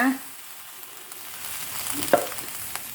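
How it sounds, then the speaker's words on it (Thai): Dried fish maw is stir-fried in a pan, a soft, steady sizzle with occasional scraping and clinking of a utensil, faint and without talking. "โอ้ยมา ผัดง่ายๆ สไตล์ซาล่านะ"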